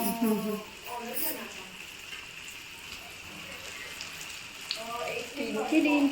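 Eggs sizzling on a hot tawa for a Marathi-style tawa anda fry, a steady crackling fry that runs throughout, with women chatting over it near the start and end.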